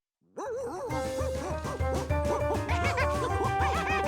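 A cartoon dog yips and barks in a quick, lively run of short calls, loud and close, layered over bright playful music with tinkling accents throughout.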